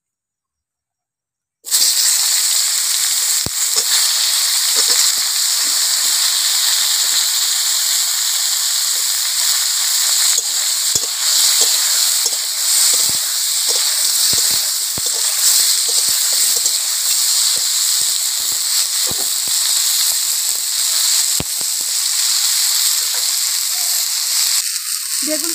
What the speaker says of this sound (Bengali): আর একটু তেল দিলাম। এই বেগুনটা একটু ভেজে নেব।